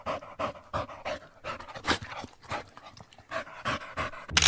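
A dog pants in rapid, rhythmic bursts close by, heavy breaths repeating steadily with a brief louder burst at the end.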